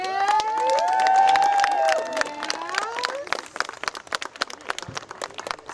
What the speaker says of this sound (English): Clap your hands for the queens today.